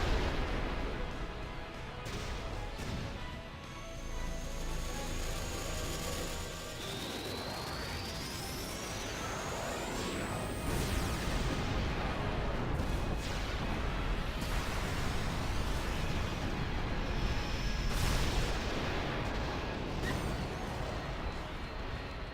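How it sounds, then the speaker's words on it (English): Bahamut's Mega Flare attack in the Final Fantasy X video game erupts as a loud, sustained barrage of explosive blasts and roaring rumble, laced with rising whooshing sweeps, with no talking. "we will watch Mega Flare just absolutely destroy everything in its path"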